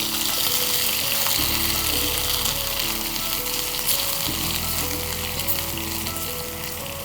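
Herbal oil with onion paste heats in a pan, giving a steady, dense sizzle and bubbling that runs without a break, close and fairly loud.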